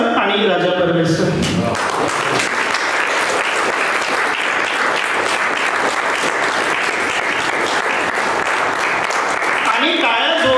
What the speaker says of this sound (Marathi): आणि टाळ्या जोरात झाल्या पाहिजे